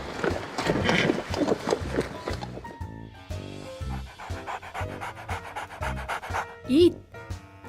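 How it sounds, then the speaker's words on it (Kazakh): A dog pants in quick, rhythmic breaths close up, a run of short huffs over a musical backing, ending with a brief higher squeal. "Ит."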